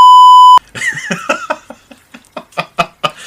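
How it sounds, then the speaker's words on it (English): A censor bleep: a pure, steady electronic tone for about half a second, cut off sharply and followed by bursts of laughter from a group. "I'll just beep it out"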